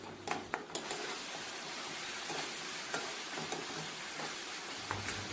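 Crushed onion paste with slit green chillies and coarse salt frying in a pan for karivepaku chicken fry, a faint, even sizzle with a few early stirring knocks and no voices.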